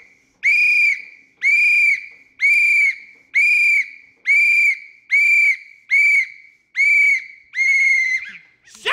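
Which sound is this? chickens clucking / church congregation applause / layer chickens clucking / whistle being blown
whistle being blown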